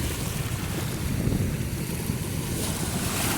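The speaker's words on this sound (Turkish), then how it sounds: "Şu dalgaların sesi insanın ruhunu dinlendirir" Steady surf rumbles low and constant on the shore at Şarköy, mixed with wind noise on the microphone. Nobody speaks.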